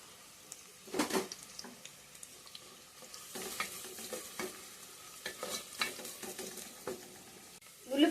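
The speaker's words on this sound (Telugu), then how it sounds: "ఉల్లిపాయ వేగిపోయిందండి, పచ్చిమిరపకాయ, కరివేపాకు." Sliced onion, green chillies and curry leaves frying in a pan, a soft sizzle under repeated scraping and stirring strokes that come in uneven bursts, close and fairly quiet.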